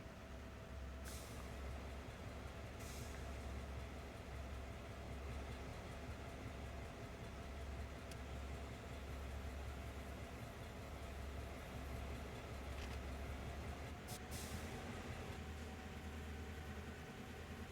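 A freight train in Train Sim World 2, hauled by a GP38-2 locomotive, rumbles along steadily at a distance, with a low continuous drone and occasional sharp hissing bursts like air brakes.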